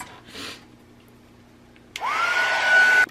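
A heat tool or hair dryer is used to dry a layered craft mini-album cover. The blower switches on with a loud, steady whooshing roar that runs for about a second before cutting off, after a brief softer puff and some quiet handling.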